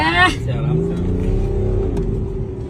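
BMW car accelerating in drive mode, engine revving up with rising whine then settling into a steady roar, close and loud, with a brief voice at the start.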